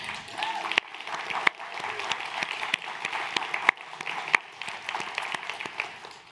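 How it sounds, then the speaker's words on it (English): Audience applause for event staff at an MIT Solve gathering, a steady wash of clapping with a few sharp individual claps standing out, moderately distant and sustained for several seconds without speech over it. "A massive thank you and a round of applause for the incredible Solve staff."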